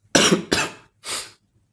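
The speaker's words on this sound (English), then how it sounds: "I might be sneezing and coughing" Three sharp, close coughs: two in quick succession, then a pause and a third, with silence around them.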